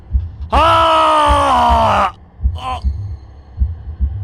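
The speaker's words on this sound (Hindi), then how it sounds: "कुछ देर मुझे अपने दिल की धड़कनें साफ सुनाई दे रही थी" Slow, steady heartbeat thumps pulse low underneath, while a loud drawn-out groaning tone rises and fades early on.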